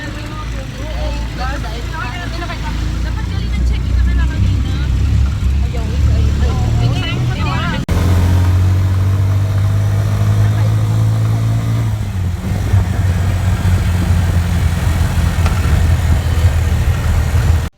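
A motorized tricycle engine rumbles past on a busy street during Sinulog 2017, its low drone swelling for a few seconds in the middle while people talk nearby throughout.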